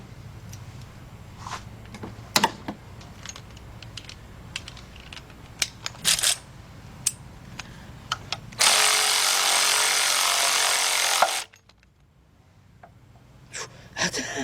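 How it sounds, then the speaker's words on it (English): Cordless ratchet working on the engine of a 1997 Mercedes-Benz E320 W210 3.2 during upper front timing cover gasket work: a loud, steady buzzing whir lasting about three seconds, preceded by scattered clicks and taps of tools. "let's try this cordless ratchet again"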